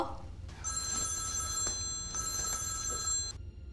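A telephone rings in two long electronic bursts separated by a brief pause, fairly loud and close over a low background hum.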